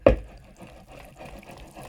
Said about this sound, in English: That fizz is a characteristic of a beautiful fermentation